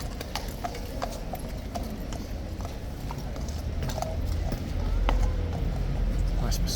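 Household Cavalry horses clip-clop steadily at Horse Guards, repeated hoof strikes on pavement mixed with crowd murmur and distant voices, growing slightly louder toward the end.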